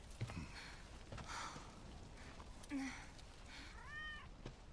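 A pet cat meows once near the end of a quiet stretch of soft thumps, breaths and sniffs, the meow faint and slightly drawn out.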